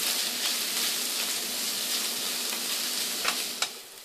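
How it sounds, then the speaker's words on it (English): Onions fry in hot oil in a pan for a spinach moong dal, making a loud, continuous, dense sizzle with soft stirring underneath and a couple of brief clicks near the end, with no voice present. "Fry the onions till they are nicely done."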